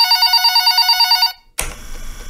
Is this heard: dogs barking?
no